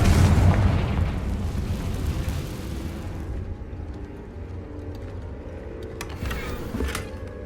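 A Confringo spell explosion in Hogwarts Legacy opens with a loud, deep boom whose rumble fades over several seconds, followed by a few crisp crackling pops.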